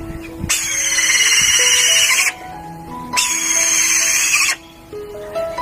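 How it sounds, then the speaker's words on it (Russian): A falcon kept in a large cage gives two long, loud, harsh screeching calls, each lasting about two seconds, close by and over a faint background hum with no talk. "Это сокол, если не ошибаюсь."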